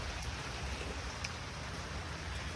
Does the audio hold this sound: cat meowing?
no